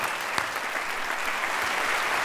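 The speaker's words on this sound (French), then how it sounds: "Et applaudissez-vous un peu d'être sortis tous ensemble." Steady, fairly soft applause from an audience at an evening prize-giving ceremony, an even wash of many hands clapping throughout.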